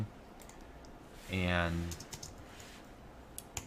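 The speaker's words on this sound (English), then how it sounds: "I'm just gonna start typing" Soft, scattered key clicks from typing on a computer keyboard while writing code, close and faint, briefly covered by a man's spoken word.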